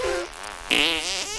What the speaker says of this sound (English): Did I just fart? Or was I just thinking about farting?